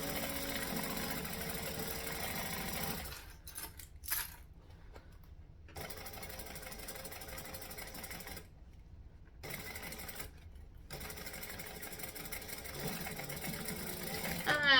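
Sewing machine stitching fabric lining, a quiet mechanical whir that runs in several bursts, with short silent pauses between them.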